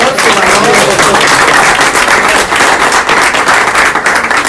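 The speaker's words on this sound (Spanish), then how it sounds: "Pues agradecerles a ellos con un aplauso" A church congregation gives a loud, close round of applause to thank visiting guests, dense continuous clapping holding steady for several seconds without speech.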